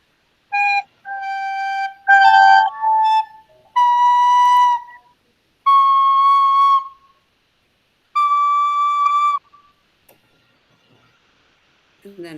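Several students playing recorders together, sustained breathy tones on a few held pitches, some overlapping and wavering, stopping and starting in short phrases, close and fairly loud.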